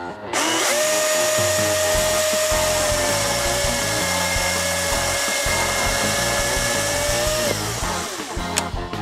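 A Milwaukee M18 FUEL battery chainsaw whines at a steady high pitch for several seconds as it cuts ash sticks, then winds down, with some clattering afterward.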